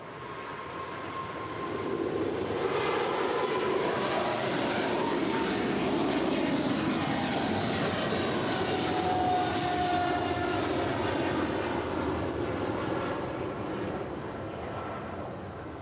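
A Boeing 777 takes off from runway 25 Left at LAX: a steady, broad jet roar swells in after a second or two and holds loud and constant to the end, with no voices.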